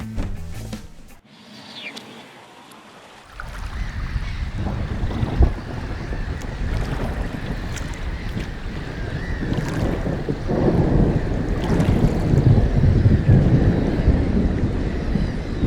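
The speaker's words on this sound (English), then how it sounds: "we sure picked a sloppy, cold day to take a boat ride" Boat ride on a sloppy, cold, windy day, with a boat motor droning through strong wind buffeting and splashing water, growing louder and rougher as the ride continues.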